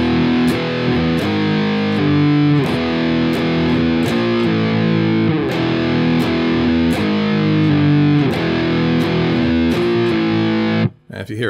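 A distorted electric guitar chugs a riff in open E, moving from sixth into fifth position, loud and continuous with sharp accents, then cutting off abruptly near the end.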